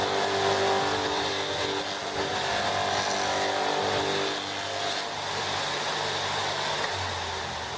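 A buffing wheel polishing a knife handle with a CA finish, a steady close whirring hum with a faint shifting whine as the handle is pressed to the wheel.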